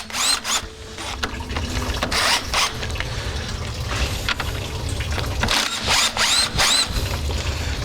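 Impact tool spinning off 10 mm metric nuts from the radiator of a 1994-2002 Dodge Cummins pickup during a Mishimoto radiator swap, coming in several short close whirring bursts with clicks and handling noise between them.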